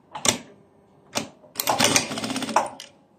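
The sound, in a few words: sewing machine stitching the shoulder of a shawl-collar vest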